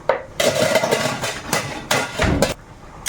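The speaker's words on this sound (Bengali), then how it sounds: "ফুটে গেছে এখন ঢাকাটা খুলে নিলাম" A lid lifted off a boiling pot of cooking: several sharp, close metallic clanks and knocks in quick succession, with no talking.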